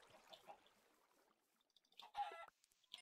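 A Minecraft chicken clucks faintly in a few short bursts, with a louder cluck near the end against a quiet background.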